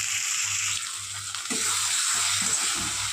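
Ginger-garlic paste frying with ground coriander, chilli and turmeric for a chickpea and potato curry, a loud close sizzle with a faint low hum and light scraping stirs toward the end.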